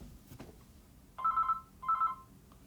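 A telephone rings for an incoming call in two distinct electronic trilling bursts, moderately close in a quiet room with faint background noise and no voices.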